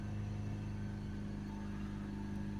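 A Ford Transit van engine held at raised revs, likely with a faulty DPF, makes a steady low droning hum that stays even and continuous at moderate distance with no talking.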